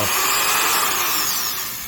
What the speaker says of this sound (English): you need a drill and you need it to be really fast